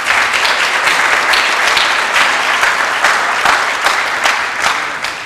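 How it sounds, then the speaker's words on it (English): An audience at a 2023 high school senior awards night claps, a dense, steady round of applause that stays loud throughout and eases off slightly at the end, with no voice over it. "So a big round of applause for all of those individuals."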